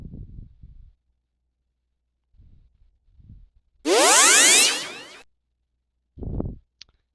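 A short sound effect in an RPG Maker 2003 game, a loud bright sweeping burst of rising and falling tones lasting over a second. Brief low thumps come before it, and a short tonal blip follows.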